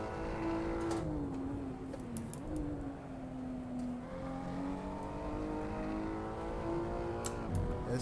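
Race car in the Assetto Corsa sim racing game accelerating hard off a corner, engine note climbing steadily through a gear change, loud and continuous with a few brief clicks and little talk.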